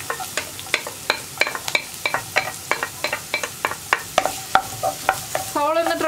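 Green chillies and chopped onion sauté in a pan for egg bhurji, with a quick regular series of sharp spatula taps and scrapes over a low sizzle, ending in a brief squeaky scrape.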